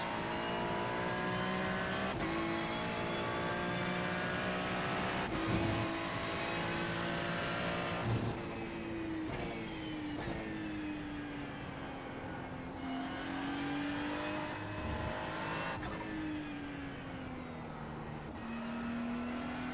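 A GT3 race car lapping the Sebring circuit, its engine droning steadily with rising and falling revs through gear changes, loud and close from inside the car, with no talk.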